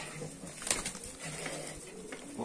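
Pigeons in a Mardin loft softly cooing and shuffling at close range, a low steady murmur of birds with a brief flutter in the middle and no talking.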